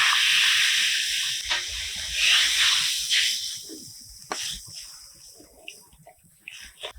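Coconut milk and water poured onto coconut spice paste frying in a pan for cauliflower malai curry, giving a loud, bursting sizzle that fades to a quieter, crackling simmer.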